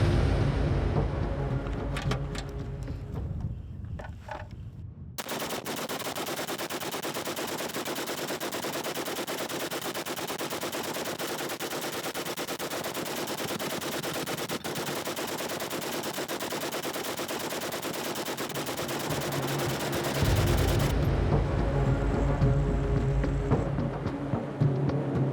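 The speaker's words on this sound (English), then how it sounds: "wants to put the machine gun to the test, using a historical example from 1908" A 1908-era machine gun fires at ten paint cans, a fast, continuous, loud burst of about a hundred shots lasting roughly fifteen seconds, with nearby mechanical noise before and after.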